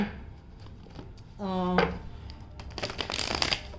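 Tarot cards being shuffled and drawn, crisp riffling and papery flicks close up, with a brief voice in the middle.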